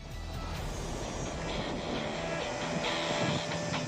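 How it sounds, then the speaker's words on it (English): A Mi-26 heavy transport helicopter on a long-distance test flight, its engines and rotors giving a steady, loud, continuous drone with no breaks. "the helicopter goes on another test flight"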